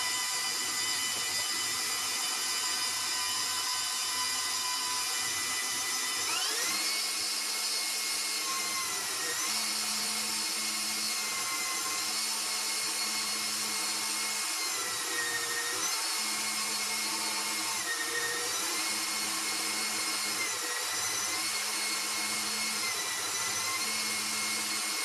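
An electric pasta machine rolls spinach pasta dough, its motor giving a constant droning whir with a low rumble that shifts and thumps each time the sheet passes through the rollers, running steadily throughout.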